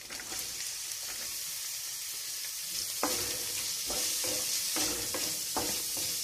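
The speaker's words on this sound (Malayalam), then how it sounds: "ഇതിലേക്ക് നമ്മൾ ചെറിയ ഉള്ളി ചെറുതായിട്ട് അരിഞ്ഞു വെച്ചേക്കുന്നത് ചേർത്ത് കൊടുക്കും" Finely chopped small shallots sizzle steadily in a hot pan for a soya chunks roast, with a spoon stirring and scraping through them in irregular strokes, close and constant with no talk.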